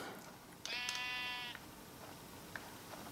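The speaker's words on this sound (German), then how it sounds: "Ein Schaf." A Minecraft sheep gives a single wavering bleat lasting just under a second, clear and close against a quiet background, with no talking.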